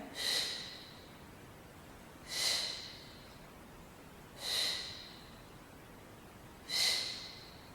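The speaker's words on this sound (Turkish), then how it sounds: "Aldım nefes. Nefes aldım." Four slow, airy breaths drawn in, evenly spaced about two seconds apart, close and clear against a quiet background.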